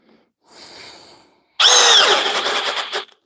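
A 12-volt Flex compact drill in drill mode at speed 2, a quieter whir first, then a louder straining whine as it bites into the work for about a second and a half before stopping.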